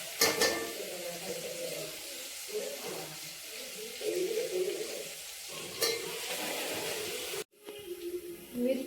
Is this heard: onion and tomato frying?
yes